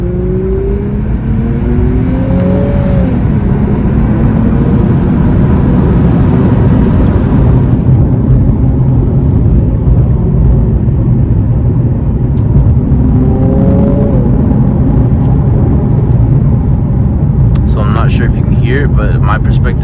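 A 2021 Infiniti Q60 Red Sport in sport mode and manual mode accelerates hard on a night drive, its engine rising in pitch through the revs, dropping at a shift and climbing again, loud and close inside the cabin with someone talking over it.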